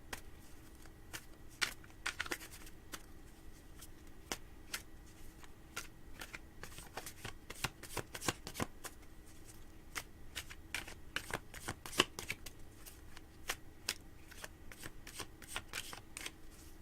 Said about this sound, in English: let me shuffle this a little bit more for you here, Brisk, okay?